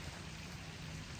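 Steady rain falls in a brief, faint, even patter with no voices.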